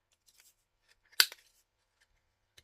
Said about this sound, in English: I'm going to use first of all my rounded corner, because I just cut them straight